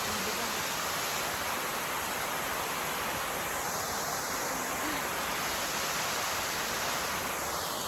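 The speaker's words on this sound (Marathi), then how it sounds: "गाईज तर आम्ही आता धबधब्याच्या इथं थांबलोय." Waterfall near Visapur fort, a steady broad roar of rushing, falling water that stays constant and loud throughout with no breaks.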